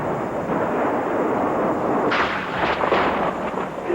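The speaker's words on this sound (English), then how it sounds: "UN peacekeepers were trapped in the Israeli shelling, forced to find cover where they could." Israeli artillery shelling in South Lebanon sounds as a dense, rumbling barrage, with sharper distant blasts from about midway through over a constant roar.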